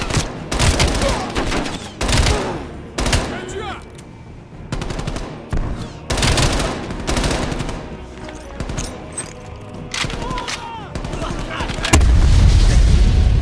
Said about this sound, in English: that is a pretty big explosion to be fair